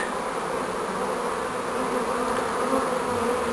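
A honeybee swarm moves into a hive, giving a dense, steady buzzing hum that fills the whole stretch without pause, close and loud, with no talk.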